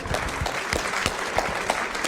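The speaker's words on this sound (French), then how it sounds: "Je crois qu'on peut vous applaudir." Steady applause from an audience at a round-table conference, a dense patter of clapping throughout at moderate volume.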